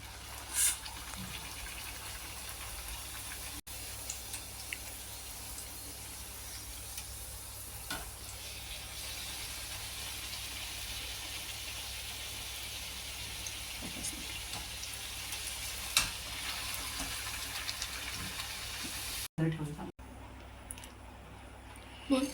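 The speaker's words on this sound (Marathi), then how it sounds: "आता आपण तळतोय तिला" Spinach puris deep-fry in hot oil with a steady, close, bubbling sizzle that runs the whole time, broken by a few soft knocks and a brief clatter near the end.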